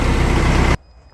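A big tractor's heavy diesel engine idles loud and close in a shop with a steady low throb, then cuts off abruptly, leaving near silence.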